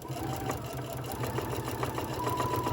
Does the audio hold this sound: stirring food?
no